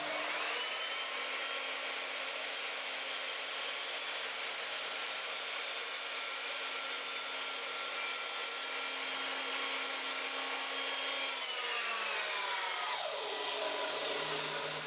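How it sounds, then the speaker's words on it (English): An Evolution Rage 3 sliding mitre saw cuts through an 8x2 timber decking joist at a 45-degree angle, its loud steady whine running near and alone for about twelve seconds before winding down as the blade slows. "I'm now going to cut an 8x2 decking joist at 45 degrees."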